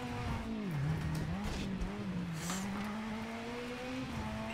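Rally car in the V-Rally 4 racing game, a loud continuous engine drone rising and falling with revs and gear changes, with some tire noise, steady throughout.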